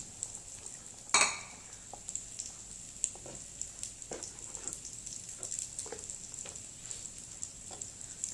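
A spoon stirs coconut-ground Kerala-style fish curry in a pot, scraping and clinking quietly at an irregular pace against a faint simmer, with one sharper metallic knock near the start.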